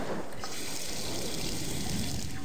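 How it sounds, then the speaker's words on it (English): Sink tap running in the horror game The House 2, a steady close rush of water pouring into a basin, continuous and fairly loud with no talk over it. "Turn the sink on."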